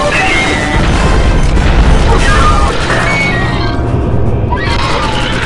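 Turret fire in a sci-fi shooter video game unleashes loud, continuous booming explosions throughout, a dense barrage of blasts and crashes with game voices faintly mixed in.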